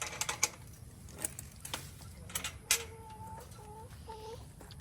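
Backyard chickens being coaxed into a pen give a few short, tonal calls and clucks in the second half, fairly close, over scattered rustling and soft clicks in a quiet outdoor setting.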